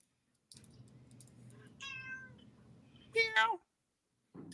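A house cat meows loudly twice, one drawn-out cry and then a sharper, louder yowl, heard indoors over a low background hum with pauses of near silence between the calls.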